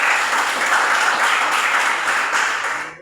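Audience applause from a classroom or presentation gathering: steady, dense clapping from many hands, fairly loud and continuous, tapering off at the end.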